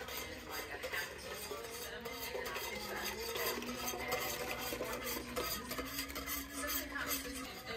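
A mixture stirred into warm milk for eggnog in a pot makes a continuous scraping, swishing sound at low volume for the whole stretch, with faint utensil rubbing and no speech.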